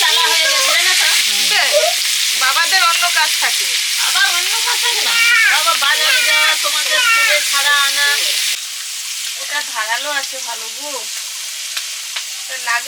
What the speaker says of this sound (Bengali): এখন পালং শাকগুলো এই জালে ভালো করে তেলে নিচ্ছি